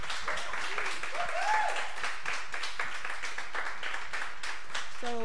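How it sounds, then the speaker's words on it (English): An audience at a networking event applauds, a dense, steady wash of clapping at moderate distance, with a few voices rising faintly above it. "Let's give Ruthie another round of applause"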